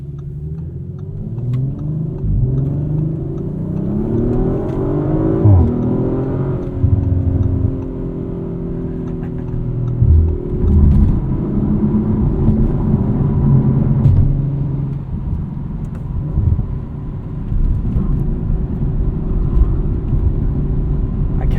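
A 2023 Audi RS5 Competition Coupe on winter tires drones loudly from inside the cabin while driving, its engine pitch rising and falling through several gear changes over a constant road rumble.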